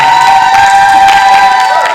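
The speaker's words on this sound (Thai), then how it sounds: "ขอเสียงปรบมือกับอาจารย์ด้วยครับ" Audience at a university lecture on labour and welfare management cheering and clapping to welcome the lecturer, a loud continuous crowd roar with whoops and a steady tonal hum underneath.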